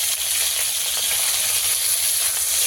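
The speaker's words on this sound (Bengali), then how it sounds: "মাছগুলো একটু ভালো করে ভেজে নিতে হবে।" Pakal fish frying in hot oil in a pan, a loud, steady close sizzle that holds without break.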